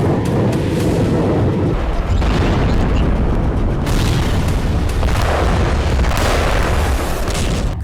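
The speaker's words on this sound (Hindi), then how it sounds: "इन दोनों हथियार गोदाम का धमाका ऐसा था मानो कोई छोटा न्यूक्लियर ब्लास्ट हुआ हो।" A weapons depot explosion in Krasnodar: heavy, sustained rumbling booms roll on and on, loud and dense, like a series of large explosions blending into one continuous roar.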